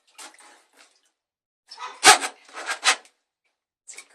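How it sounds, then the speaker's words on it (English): Water gurgles in a household plumbing drain in short, irregular bursts, a few faint glugs at first, then a louder cluster of bubbling gulps before trailing off into a last small gurgle. "We have water gurgling."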